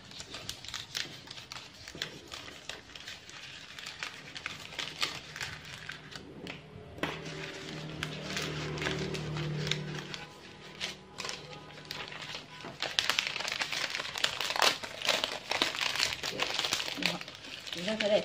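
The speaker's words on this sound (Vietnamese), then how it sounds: "chúng ta sẽ dùng cái giấy này, cái màu trắng này, chúng ta gấp hình cánh quạt nhé" White paper crinkles and creases as it is folded into a fan shape for a wax-flower bouquet, with soft rustling throughout while someone talks over it.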